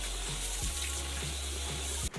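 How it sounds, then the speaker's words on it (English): Water from a bathroom sink tap runs steadily while a face is being washed, giving a close, constant hiss with small splashes as hands move through the stream, and no voices. "I just wash my face for about 15 seconds."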